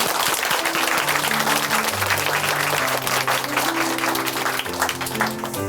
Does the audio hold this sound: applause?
yes